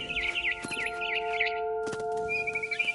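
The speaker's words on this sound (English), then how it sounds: "Then I heard chirping outside my window. It was a barn swallow going back to her nest." Barn swallow chirping outside a window in the video game What Remains of Edith Finch, a series of quick warbling tweets over a steady tonal game ambience, with a brief thump midway and a high whistle near the end.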